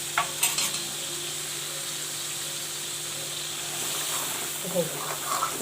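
Onion-garlic masala sizzles steadily in a pan for a village-style kat amti, with occasional scraping stir strokes over a continuous fry hiss.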